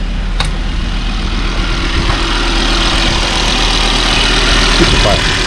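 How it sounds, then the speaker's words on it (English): A Volvo S60 engine idles after cam and crank work, giving a steady, even low rumble close to the microphone with no revving. "Let's see how quiet the engine is."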